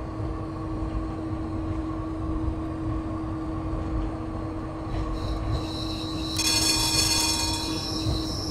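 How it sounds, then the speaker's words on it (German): A train in the Train Simulator game rolls along with a steady low rumble and constant tonal hum, swelling near the end with brighter metallic wheel squeal and clatter as it passes close by. "Kommt da hinten schon wieder ein Zug"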